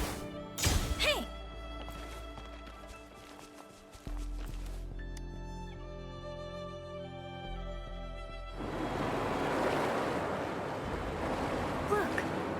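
Rushing water drains away in the video game Wuthering Waves, a broad, steady wash that swells loud and close over the final few seconds after a stretch of assorted game tones and thuds.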